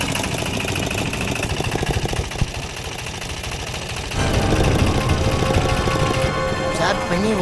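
A Bajaj Ape auto rickshaw engine after a silencer replacement is cranked and then runs with a loud, steady, knocking idle that jumps up in level partway through.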